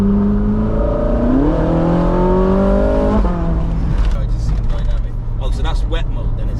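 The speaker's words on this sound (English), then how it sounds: "So if you drop the gear now on your paddle shift." A Ferrari 458's V8 engine climbs in pitch as it revs, then drops sharply with a downshift on the paddle shifter and settles to a lower drone heard from inside the car, while people talk throughout.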